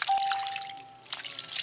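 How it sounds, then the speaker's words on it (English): Milk pours steadily and close by into a casserole dish, a continuous wet trickle with a few small drips. "now we're going to pour all of this milk"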